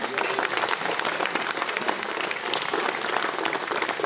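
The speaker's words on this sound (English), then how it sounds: "A round of applause for our certified flight instructor and check pilot, Andy Callow." A graduation audience gives a dense, steady round of applause for a certified flight instructor and check pilot, the clapping sustained and even throughout.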